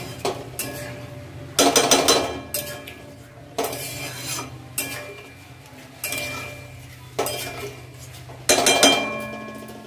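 Broken wheat daliya is stirred in a pot, with bursts of scraping and clinking from a spoon against metal every second or two, separated by quieter pauses, close and unaccompanied by talk.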